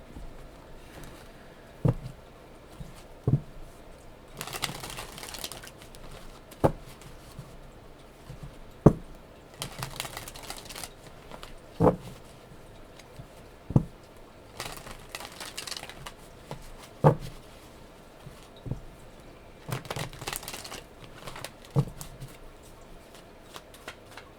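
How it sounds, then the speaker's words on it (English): Tarot cards shuffled by hand in repeated riffle bursts, interspersed with sharp taps and soft clicks as cards are pulled and set down, close and fairly quiet with no talking. "So I'm going to pull some cards here."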